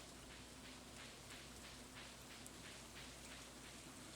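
Soft, steady rain patters throughout in the farming video game Stardew Valley, a faint, even hiss with no talking.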